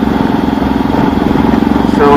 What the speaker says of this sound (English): you need to wait for a while after you start the engine